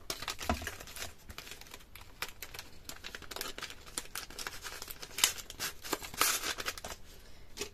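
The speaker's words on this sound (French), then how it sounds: "Je découpe ma bande." Paper strip being cut for a Stampin' Up festive card pouch, a steady run of close, dry snipping and crinkling rustles with small irregular bursts, fairly quiet with no talk.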